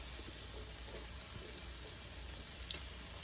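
Tomatoes hitting masala in a pan for Punjabi chole, a steady, fairly quiet sizzle with faint stirring clicks and no talking.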